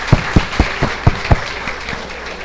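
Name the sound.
audience applause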